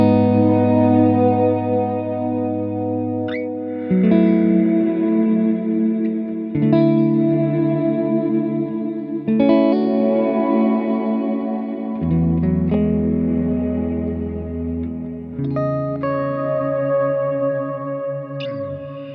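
Guitar played through a Strymon BigSky MX reverb pedal on a 90s-style bloom setting: sustained chords swell into a lush, washy reverb tail with chorus-like shimmer, changing every few seconds, loud and steady with no talking.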